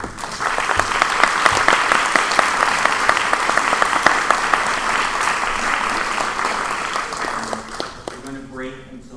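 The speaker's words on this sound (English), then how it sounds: "Round of applause, please." An audience at a neighborhood association candidate forum applauds the District 3 candidates, dense sustained clapping from many hands that fades out near the end as a voice begins speaking.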